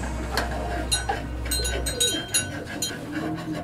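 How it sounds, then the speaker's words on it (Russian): Pigeons cooing softly in their coop at night, low murmuring calls with faint rustling, heard close and quiet without talk. "Я решила отойти от курятника и пойти ближе к голубям, послушать, что у них там происходит."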